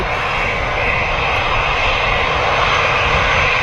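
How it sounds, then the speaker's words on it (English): Jet engines of an EasyJet Airbus A320 at Manchester Airport, a loud continuous broadband roar holding steady throughout, with no voices. "Tango Golf on the registration of this EasyJet A320."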